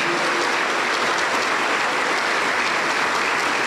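Steady, dense applause from a church congregation at a Spanish-language Pentecostal doctrine service, continuous and fairly loud from start to finish with no voices over it.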